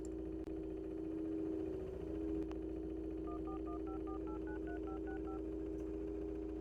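In the video game Ben There, Dan That, a steady telephone dial tone hums before a quick run of touch-tone dialing beeps, about a dozen clean electronic tones stepping up and down, with no voices.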